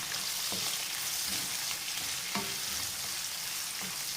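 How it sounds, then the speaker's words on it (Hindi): Chopped onions sauté in a hot pan for an egg and spinach dish, giving a steady close sizzle with a few soft scrapes as they are stirred. "इसमें अब प्याज डालते हैं। ठीक है, इसको थोड़ा सा सौते करेंगे।"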